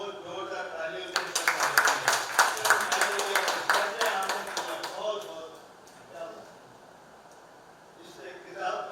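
A room at a book launch and poetry gathering erupts into hearty applause that lasts several seconds and fades out, after which talking continues at a lower level.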